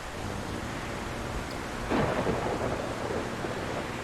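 Steady rain hiss with a rolling thunder rumble swelling near the two-second mark, a storm in the Solarpunk video game heard while travelling by airship, fairly loud and continuous with no talking.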